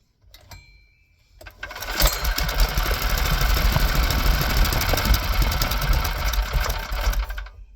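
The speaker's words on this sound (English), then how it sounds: "it should run for a few seconds on gasoline here" A small gasoline engine on choke catches on the first pull: a short rattle of the pull cord, then the motor bursts into a loud, steady, buzzing run that holds for several seconds.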